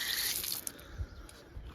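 Water running from a small outdoor tap at a sanctuary, a steady hiss of flow with faint drips, fairly quiet and alone without talk.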